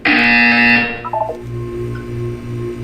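A loud electronic buzzer from the video game Portal 2, a harsh tonal blare lasting about a second, followed by lower pulsing electronic tones and hum with no voices.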